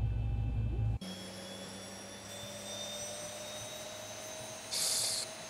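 A simulated airliner jet engine spools up during start in X-Plane 11: a sudden shift to a steady whine with several sustained high tones over a broad hum, and a brief hiss burst near the end.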